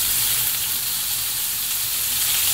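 Yakitori skewers wrapped in chives and green onions grill in a pan on lowered heat, giving a loud, even, continuous sizzle with no pauses and no one speaking.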